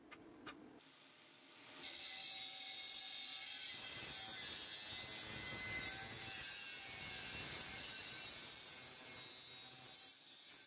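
Excess metal trimmed from the corners of a hand-forged shovel in a traditional blacksmith shop, a faint, continuous rasping cut that starts after about two seconds and runs steadily to the end.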